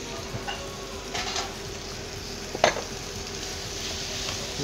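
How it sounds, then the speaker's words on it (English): Rock shrimp sizzle in a paella pan with garlic and tomato, a steady close frying hiss broken by a few louder stirs and clinks of a utensil against the pan. "So we're adding rock shrimp."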